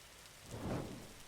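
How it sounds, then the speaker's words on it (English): Rain and thunder in the video game 99 Nights in the Forest: a soft rain hiss under a low rumble of thunder that swells midway and fades, faint overall. "Of course it has to be rain and thunder."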